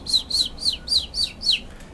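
A human voice imitates a little bird, giving six quick, high chirps in an even rhythm, close and fairly soft, with nothing else audible.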